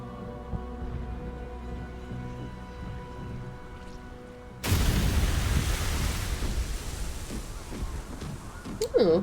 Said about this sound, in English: Oh, it exploded in fireworks.